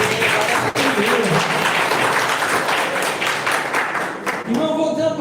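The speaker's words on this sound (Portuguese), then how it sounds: "Igreja, vamos aplaudir ao Senhor pela vida desse ministério de louvor." A church congregation applauds in praise during a worship service, a dense wash of clapping filling the room at steady strength, with music and voices blending in near the end.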